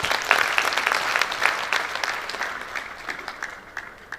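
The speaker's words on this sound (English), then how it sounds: "Let's give him a round of applause." An audience at a builders' conference opening ceremony and annual general meeting claps in a dense burst of applause that slowly thins and fades over a few seconds.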